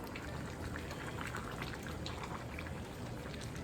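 Green beans simmering in a pot, a steady soft bubbling and hiss close by, faint and continuous with no talking.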